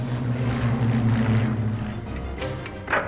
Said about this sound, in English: German bombers, especially the Heinkels, they made a very distinctive noise